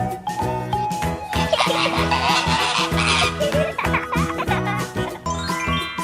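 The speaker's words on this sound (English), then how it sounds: "Flamingo." A flamingo gives honking, goose-like calls in the middle of the clip, heard over steady background music.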